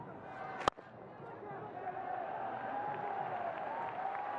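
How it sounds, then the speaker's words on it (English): A distant, faint wash of crowd applause rises and holds steady at a Bangladesh Premier League cricket match between Rajshahi Royals and Rangpur Rangers as batsman Naeem reaches his fifty, with a single sharp knock near the start. "Nice round of applause from his fans and the teammates."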